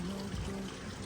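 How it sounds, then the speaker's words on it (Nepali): Steady flowing water heard around a village in Dupcheshwar municipality, Nepal, a continuous rain-like rush that stays loud and even throughout with no voices. "जताततै पानीको आवाजले पानी परे जस्तै लाग्ने रहेछ"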